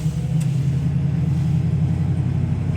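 A 1965 Mustang Fastback drives along with a steady low engine rumble under light throttle, loud and close, with road and cabin noise and no talking.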